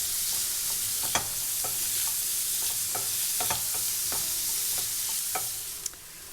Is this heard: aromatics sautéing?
yes